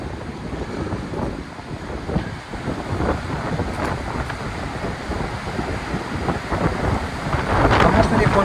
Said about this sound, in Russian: Нет, дождик не закончился.